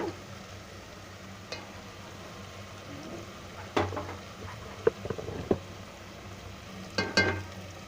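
Wheat grains go into a pan of already-roasted masala, giving a low, steady sizzle with a few sharp clinks and rattles scattered through it.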